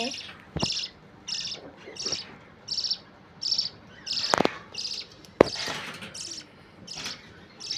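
Pet birds, a male with his mate and chick by a clay pot, chirp in a regular series of short bright bursts, with a few sharp clicks and knocks between them.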